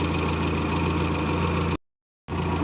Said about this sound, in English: that is a very sweet sounding A series engine.